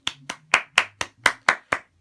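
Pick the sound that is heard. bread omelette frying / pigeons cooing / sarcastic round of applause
sarcastic round of applause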